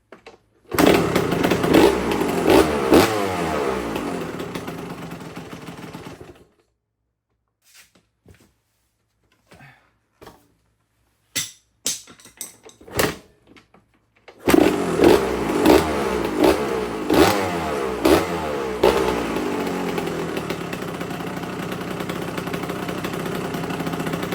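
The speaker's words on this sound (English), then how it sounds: "Let's see if we can get that idle to be just a little bit higher." A Yamaha YZ125 two-stroke dirt bike engine idles and blips after a carburetor clean and top end rebuild, running loud and close, cutting out for several seconds of sporadic sputters before firing back up steadily.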